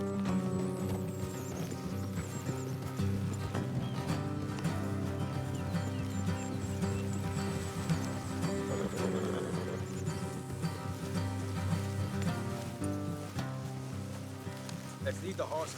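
In the video game Red Dead Redemption 2, horses walk with soft, continuous hoof clops beneath a sustained musical score and faint ambient noise, with an occasional distant voice.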